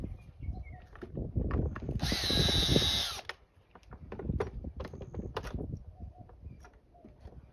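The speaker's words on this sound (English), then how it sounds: "I'm going to drill out that yoke with a step bit" A power drill with a step bit whines loudly for about a second drilling out a metal wheel yoke, then stops; clattering handling noises and short knocks surround it.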